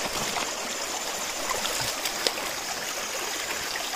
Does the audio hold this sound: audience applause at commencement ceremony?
no